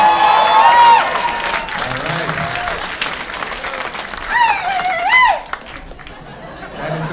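Audience at a comedy stand-up show applauding after a call-out to libertarians, with clapping, cheering and crowd chatter that swell near the start and again around five seconds before fading.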